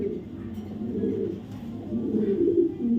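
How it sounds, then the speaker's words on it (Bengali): A male Maxi racer racing pigeon coos close by, a low throaty burbling that rises and falls continuously with a soft background hum. "একটা মাক্সি রেসার নর কবুতর বিআরপিএফসি ক্লাবের কবুতর"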